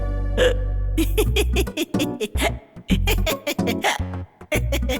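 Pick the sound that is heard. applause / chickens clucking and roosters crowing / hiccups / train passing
hiccups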